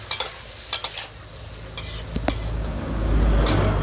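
Cucumber and egg stir-frying in a pan with fish sauce and sugar, close sizzling under sharp spatula clacks against the pan, a few quick knocks early, then a deeper rumble building toward the end.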